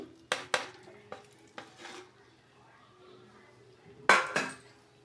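Fried eggs dropped into egg dum biryani masala in a pot and stirred, with a few sharp metallic scrapes and clanks of a spoon against the pot, spaced apart and ending in a louder double clatter.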